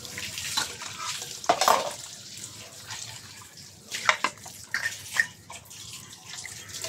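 Water from a kitchen tap splashes intermittently at a sink while dishes are being washed, with clinks and bursts of spray rising and falling; fairly quiet and close.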